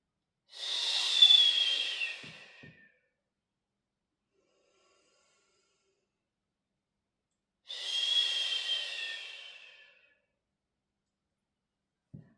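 Two long, close breaths of a person doing pelvic tilt exercises on a Swiss ball, each lasting about two seconds with a pause between them, heard alone in a quiet room with a faint soft bump at the end.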